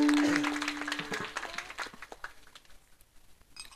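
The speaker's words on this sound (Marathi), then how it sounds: "सगळ्यांसाठी एकदा टाळी" An audience claps together in a burst of applause that starts loud and quickly fades away over a few seconds.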